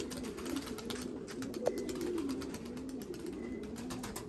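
A pigeon gives a steady run of low, throaty coos, close by and moderately quiet, over a faint background hiss.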